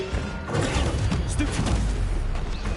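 An Incendio fire spell cast in Hogwarts Legacy, a burst of game effects with whooshing, thumping impacts and mechanical clatter layered over a low rumble, fairly dense and continuous for a few seconds.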